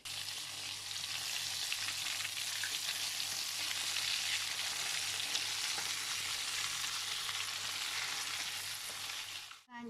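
Ground paste of shallot, garlic and green chili frying in a pan, a loud continuous bright sizzle with occasional stirring scrapes, steady for about ten seconds until a sudden clatter at the very end.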